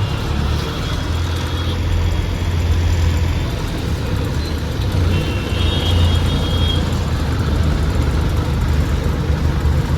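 Vehicle engines idle in a traffic jam on a road flooded by heavy rain, a loud continuous low rumble with steady background noise and no talk.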